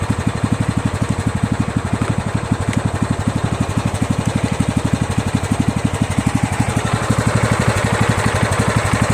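A Kohler Command CV460S single-cylinder engine on a Craftsman LT1000 lawn tractor idles steadily, a loud, close, even chugging pulse that holds its rhythm throughout and swells slightly toward the end.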